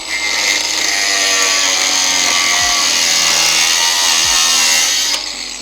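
Power tool cutting through a car chassis crossmember, a loud, sustained high-pitched grinding that runs nearly five seconds close up, with two brief low dips mid-cut before it winds down.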